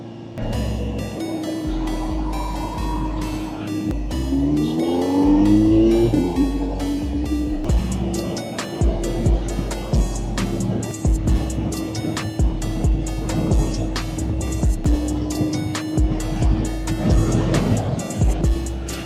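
A superbike with its dB killer removed, ridden on a group ride, roars loudly with an unbaffled exhaust: sustained engine drone, a rising rev burst and gear shifts, steady cruising tone, with wind rush and other bikes around.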